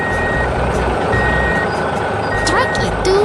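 Reversing beeps from an animated green truck at a concrete-pour construction site, a steady series of loud electronic beeps over engine rumble.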